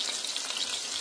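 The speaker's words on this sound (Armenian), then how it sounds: "ձկնիկն ու պղպեղը տապակվում են այս պահին։" Fish pieces and peppers frying in a pan with spice, a dense steady sizzle close up and alone.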